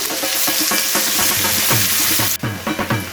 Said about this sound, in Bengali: তো পেঁয়াজটাকে এরকম হালকা বাদামি করে ভেজে নিতে হবে।